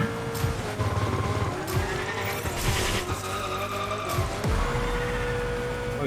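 A video game car drifts with sustained tire squeal and skidding over a revving race engine, with repeated sliding sweeps and pitch swings as it chains drifts, loud and continuous.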